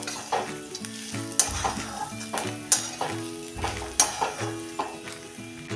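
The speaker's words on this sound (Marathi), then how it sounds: "जाडसर कुटलेले आपण मिरची, लसूण आणि हे शेंगदाणे टाकून हे आता बऱ्यापैकी आपण परतून घेऊया।" Green chillies, garlic and coarsely crushed peanuts sauté in a pan for a dry onion-papad chutney, a loud continuous sizzle broken by repeated rhythmic stirring scrapes and clanks of a spoon against the pan.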